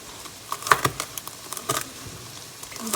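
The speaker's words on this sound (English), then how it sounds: "And chop up this bacon." Irregular knife chops and taps on bacon on a cutting board, a few sharp close-up strikes in quick clusters with short pauses between.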